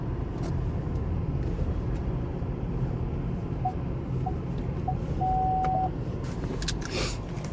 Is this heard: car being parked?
yes